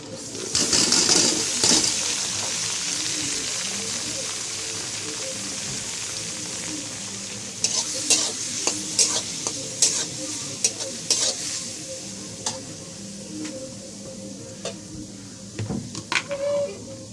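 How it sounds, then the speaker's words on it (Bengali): Carrots fry with onions in a pan, a steady sizzle layered with frequent sharp scrapes and knocks of stirring, loudest at first and then settling into a busy, close hiss. "পেঁয়াজের মধ্যে দিয়ে দেবো গাজর।"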